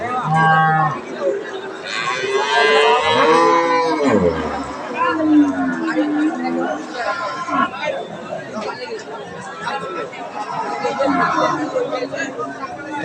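A Friesian cow at a cattle market lets out a couple of low, drawn-out moos nearby while people chatter around it throughout.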